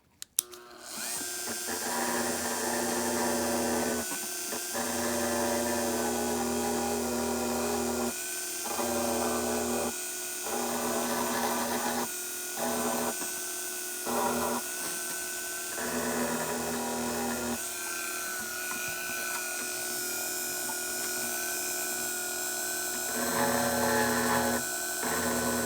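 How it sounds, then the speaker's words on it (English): A high-pitched rotary burr grinds a V along a crack in a plastic wheel cover from a 2003 Toyota Echo, whining in long runs broken by frequent short pauses. "So generally the burr will follow the crack pretty well."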